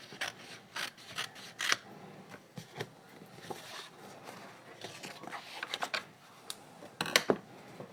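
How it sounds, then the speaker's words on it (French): Scissors snipping a small piece from a stamp transfer for a candle, a series of quiet, close, crisp cuts and rustles in irregular bursts. "Je vais juste découper cette petite partie-là."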